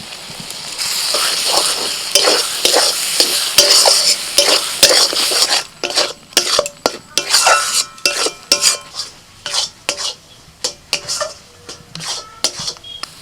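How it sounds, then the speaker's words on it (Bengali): Spices and boiled lentils being stirred in a pan, with steady scraping and clinking of a utensil against the pan over a soft sizzle, turning into distinct rhythmic strokes in the second half. "মশলাটা হালকা করে নাড়াচাড়া করে দিয়ে দিচ্ছি সিদ্ধ ডাল"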